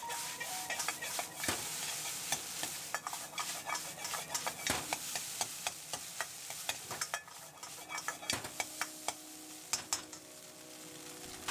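Ramen-house style fried rice (chahan) with chashu sauce is stirred in a hot pan, with quick scraping spatula strokes and clicks over a steady sizzle, close and fairly loud.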